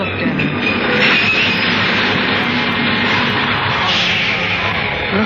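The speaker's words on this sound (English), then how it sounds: "The subway stopped." Subway train running through a tunnel as a 1940s radio drama sound effect, a loud, continuous rumble and roar with metallic screech, holding steady throughout with no speech.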